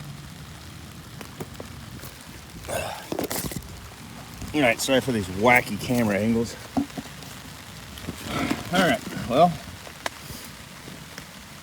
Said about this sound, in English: it's raining and we're staying dry.